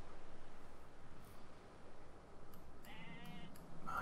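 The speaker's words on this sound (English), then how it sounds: "I just heard a sheep go meh." A quiet sheep bleat from the video game Civilization 5, a brief wavering call near the end over a low steady game ambience, with no speech.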